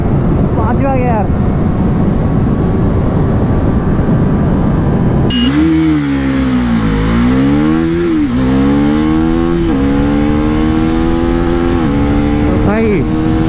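A 2024 Yamaha R3 and KTM Duke 390 in a drag race, engine noise droning at first, then a loud motorcycle engine revving high and sweeping up and down through gear changes, with voices talking over it.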